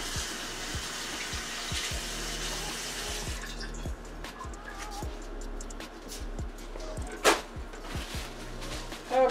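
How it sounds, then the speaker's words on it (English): A kitchen tap runs steadily into a sink while hands are washed, a continuous close splashing stream with a few small clunks and knocks, no talking. "wash my hands a minute"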